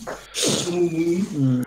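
A single sneeze bursts out in a voice chat during a tabletop role-playing session, followed at once by someone speaking.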